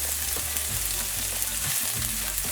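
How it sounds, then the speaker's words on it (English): Chopped onions and scallions fry in a pan of oil, giving a loud, continuous close-up sizzle and crackle with a low rumbling undertone throughout and no voices. "go in with some chopped onions and scallions"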